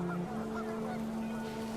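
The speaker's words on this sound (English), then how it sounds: "panicked geese appeared and quickly went" Panicked geese honk in the video game What Remains of Edith Finch, giving a sustained, nasal, droning call that holds steady at moderate loudness, with a soft watery ambience underneath and no talking.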